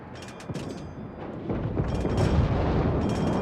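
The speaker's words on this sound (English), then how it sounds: "However, the Fuso has fired." The Fuso battleship firing its guns in World of Warships, heavy booms followed by a rising sustained roar of rumbling blasts, loud and close with no talking.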